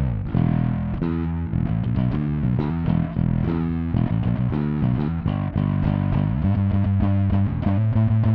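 An electric bass guitar plays through a Hartke Bass Attack 2 preamp with a driven, slightly distorted tone, a continuous line of notes played alone and up close.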